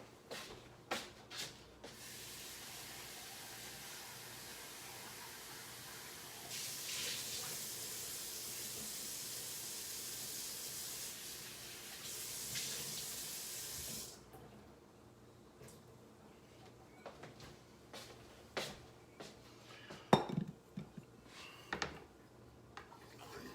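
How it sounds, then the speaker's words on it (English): Running tap water splashing over a daikon radish while it is rinsed at a kitchen sink, a steady hiss that swells for several seconds then cuts off, with soft clatter and handling noises before and after. "Then I'm gonna go rinse my daikon."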